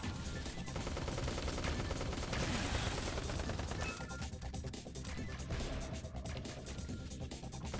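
Dense, continuous gunfire and smashing impacts from the top-down shooter JYDGE, loud rapid bursts filling the whole stretch with no pauses.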